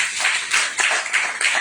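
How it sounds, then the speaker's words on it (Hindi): Brief scattered clapping from a small group at a weekly meeting, a few uneven bursts of hand claps fairly close. "तो जिस भाई साहब ने इतना सबर कर लिया उनके लिए जबरदस्त ताली बनती है"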